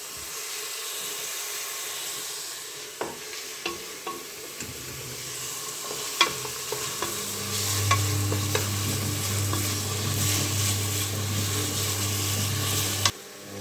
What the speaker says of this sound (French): on prend le thym que j'ai pris tout à l'heure, qu'on rajoute avec les oignons et on mélange bien le tout ensemble